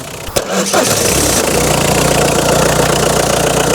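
A car engine cranks briefly and catches, then settles into a steady, close idle rumble that continues to the end.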